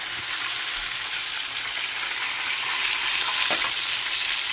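Fish fries in a pan with a dense, even crackle and sizzle that holds close and loud the whole time, with no voices.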